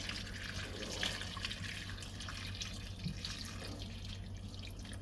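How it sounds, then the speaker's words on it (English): Pork broth pours into a pot in a faint, steady liquid stream with light splashing over a low hum, quiet and without talk. "I'm gonna add some of the pork broth."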